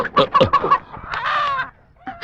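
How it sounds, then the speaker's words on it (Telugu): A chicken clucks and squawks loudly and close by as it is chased and caught, with rapid agitated calls followed by a longer drawn-out cackle and a short pause. "నాకు నచ్చిన కోడిని నేను పట్టుకోగలను"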